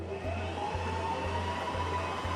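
Electric stand mixer running on slow while mixing red velvet cake batter with flour added, a steady motor whir with a faint rhythmic thump from the beater at each rotation, heard alone.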